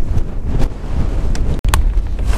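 Strong wind buffeting the microphone, a loud continuous low rumble with gusty bursts.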